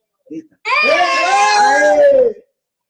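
A studio audience of children and adults at a Children's Day TV show screams loudly on cue, a sustained shrill burst of about two seconds after a brief voice, then silence.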